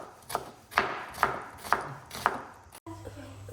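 Onions are cut into thin slices with a knife on a board: five distinct, evenly spaced chops, each a crisp crunch with a soft thud, followed by a short quiet clank at the end.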